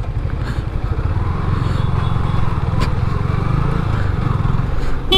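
Motorcycle engine running close by, a loud steady idling throb with fast even pulses and no voices over it.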